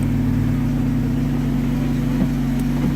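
A Ford Focus engine runs during a window regulator repair, a steady, fairly loud low hum that holds even and unbroken throughout, with no talking.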